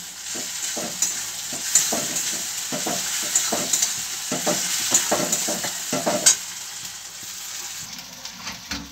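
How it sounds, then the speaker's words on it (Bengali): Onions sizzle with garlic paste in a pan, a steady loud frying hiss broken by scraping stirs, heard up close with no talk. "দেখো পেঁয়াজ ভাজা হচ্ছে"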